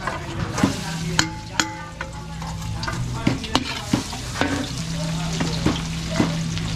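Garlic sautéing in a pan for pancit at a catering cook-up in Masantol, Pampanga: a continuous close sizzle punctuated by frequent sharp clinks and scrapes of a utensil stirring against metal.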